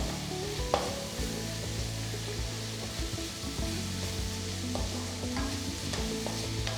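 Onions with a pinch of salt fry in a pan until light brown, giving a close, continuous sizzle with scattered stirring clicks over a faint steady hum underneath.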